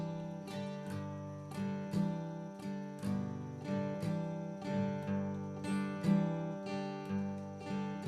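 An acoustic guitar plays a walking country blues fill, strumming through a chord while a moving bass line picks out steady, rhythmic notes, close and clear with no talking.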